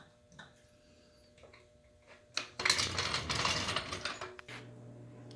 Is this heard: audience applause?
no